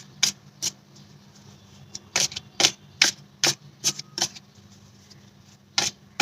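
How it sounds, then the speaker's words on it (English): Oracle cards being shuffled by hand, a series of sharp, dry riffling snaps and taps coming in irregular bursts, close and fairly loud over a quiet room. "I don't know why I'm shuffling this way"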